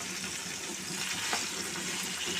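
Onion, carrot, drumstick and green chillies frying in a pan for Telugu sambar, giving a steady, close hiss and sizzle with no speech.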